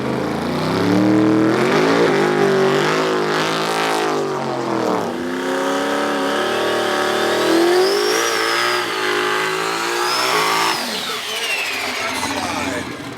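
The Mississippi Queen car runs on a dyno with boost, its engine revving loudly and rising and falling in pitch in sustained pulls, with a high whistle climbing over the top near the end.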